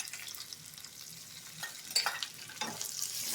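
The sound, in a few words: garlic and curry leaves frying in oil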